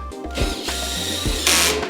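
A power drill drives bolts into a Koda utility cart during assembly, whirring in short repeated bursts with brief pauses and a clattering ratchet-like grind between them.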